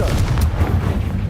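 A Confringo blasting spell goes off in Hogwarts Legacy, one short, loud, booming burst with a rumbling tail.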